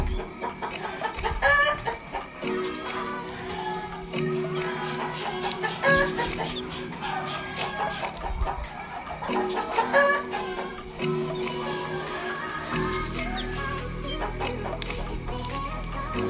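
Imported Filipino hens, kept as breeding stock, cluck steadily in a coop at night, with bursts of fowl calls and clucks repeating close by throughout.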